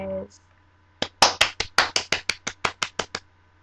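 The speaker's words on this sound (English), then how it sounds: "Let's give this young lady a round of applause." Clapping greets a young contestant: a brief voice, a pause, then about a dozen sharp, evenly spaced claps from close by, sounding like one or two people rather than a crowd.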